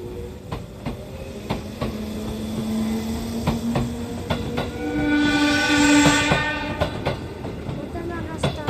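A 311 series train pulls out of Okazaki station, clattering steadily with a single loud horn blast partway through, close by, with people chatting nearby.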